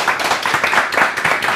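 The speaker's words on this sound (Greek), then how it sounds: "Θα ήθελα λοιπόν το πιο θερμό μας χειροκρότημα για Γιάννη Μικερτζή" A studio audience claps warmly for a clarinet player on a Greek television show, dense continuous applause that is loud and close.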